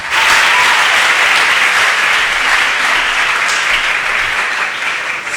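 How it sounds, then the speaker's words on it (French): A church congregation at a Sunday service claps together in a dense, loud, continuous wash of applause that holds steady throughout, with no talking over it. "Acclamez fortement le Seigneur Jésus-Christ."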